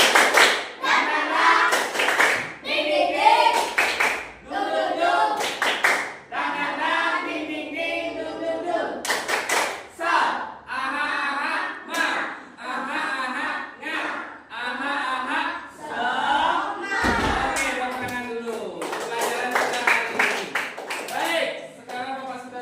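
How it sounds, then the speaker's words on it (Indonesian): A group performs a rhythmic spirit clap, with sharp bursts of many hands striking together in patterned volleys and short pauses, repeated over about twenty seconds, alongside voices. "Tepuk semangat."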